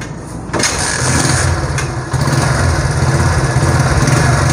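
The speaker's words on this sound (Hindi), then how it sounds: "किक लगाएं भाई।" A Honda CD70 motorcycle engine is kick-started and catches right away, then settles into a loud, steady, close-up idle with a continuous putter.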